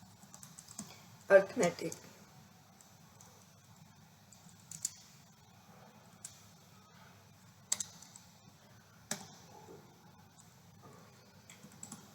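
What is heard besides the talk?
typing on a computer keyboard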